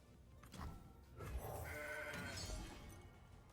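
Goats bleat in the Legends of Runeterra card game, a couple of short wavering animal cries over a low game background, fairly quiet and with no talk.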